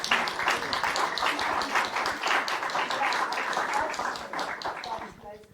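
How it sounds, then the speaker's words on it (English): Audience applauding panelists at the close of a social enterprise business talk, with continuous clapping from a crowd mixed with voices talking over it, fading out at the end. "giving our panelists a huge round of applause"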